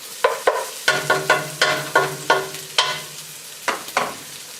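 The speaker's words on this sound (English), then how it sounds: "As you can see, our vegetables are well sauteed" Vegetables being stirred in a pot while cooking for black-eyed peas, a series of about a dozen distinct scraping and clinking strokes of a utensil against the pot, close and fairly loud, no speech.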